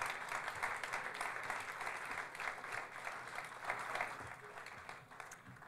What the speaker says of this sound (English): Please give JC a round of applause